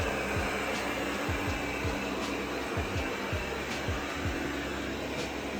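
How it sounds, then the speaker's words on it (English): A Eufy 15c Max robot vacuum runs indoors at home, giving a steady, fairly quiet whirring hum with soft low thumps recurring underneath, and no talking. "With this particular robot vacuum, I was surprised at how quiet the sound is."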